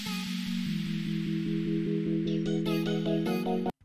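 An electronic music track preview in Premiere Rush: a steady pulsing synth bass beat with bright layered synth tones building up, loud and alone, ending abruptly.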